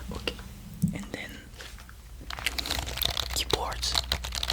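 Computer keyboard typing in a soft ASMR-style recording, clicky irregular key taps mixed with crinkling noises and a quiet voice.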